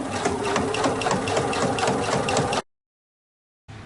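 Domestic sewing machine stitching along the folded edge of fabric binding, a steady rapid mechanical whirr of needle strokes running continuously, then cutting off abruptly into silence before briefly resuming.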